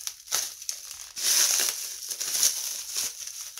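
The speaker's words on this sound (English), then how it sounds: "I can't even cut through this bubble wrap." Bubble wrap around a Mickey-themed Epcot loot box crinkles and crunches in short, close bursts as it is handled and pulled at with scissors.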